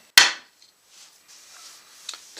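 A hammer taps a guitar fret into a fretboard with a single sharp, bright strike near the start. Faint scuffs and a light click follow, close up and without speech.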